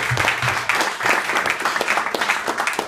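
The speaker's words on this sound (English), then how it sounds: "Give him a round of applause." Audience applause at a comedy club, a full burst of hand clapping from a crowded room that holds steady and loud throughout.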